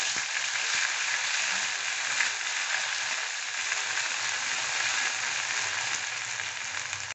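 A ground onion, garlic and ginger masala fries in hot oil over a medium flame for a mutton rassa, giving a dense, even sizzle that holds steady throughout with no voices.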